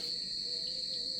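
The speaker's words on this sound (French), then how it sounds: "Je pense qu'on peut entendre derrière les les grillons." Crickets chirp in a steady, high continuous trill in the hills near Mount Salak, Bogor, Indonesia, an unbroken insect drone with no voices.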